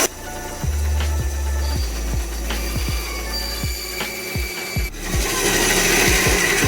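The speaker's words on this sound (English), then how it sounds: "I'll just use the dull blade bandsaw." A bandsaw with a dull blade cuts through wood, a continuous motor hum and grinding rasp with repeated short bursts as the blade bites, loud and close, with no talking.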